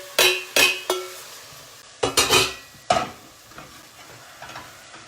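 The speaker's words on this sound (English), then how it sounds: "I've got my heat down, and I'm just going to add my lentils on in." Lentils tipped into a hot pan for a lentil chili give a few sharp clinks and stirring scrapes, then a soft sizzle that fades to quiet, close and moderately loud.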